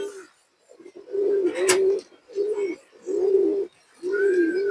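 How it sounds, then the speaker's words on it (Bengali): Repeated low, throaty coos from a big female pigeon come in steady bursts separated by short pauses, close by and fairly loud, with no talking. "বিগ সাইজের একটা মাদি কবুতর মাশাআল্লাহ"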